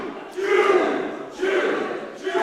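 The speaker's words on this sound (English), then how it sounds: "As the crowd are choo-chooing all over this place." A wrestling crowd chants a rhythmic train-whistle "choo-choo" in loud repeated bursts, three waves of massed voices filling the arena with little pause between them.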